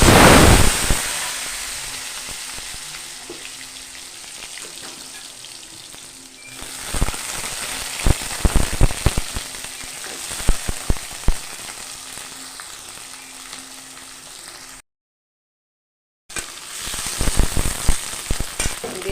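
Potatoes fry in a pan with cinnamon, clove and cardamom, starting with a loud burst of sizzle that settles into steady crackling, with spatula scrapes and stirs and a short break of silence before the sizzling resumes.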